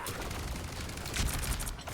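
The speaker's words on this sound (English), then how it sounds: "Gonna fire off a couple heals and then go for some frags." Rapid, dense burst of weapon fire as Rocket Raccoon shoots heals in Marvel Rivals, loud crackling shots packed together over busy game sounds.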